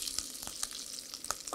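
Cubes of unpeeled pumpkin fry in hot oil with a close, steady sizzle, broken by a few sharp clicks and scrapes as they are stirred in the pan.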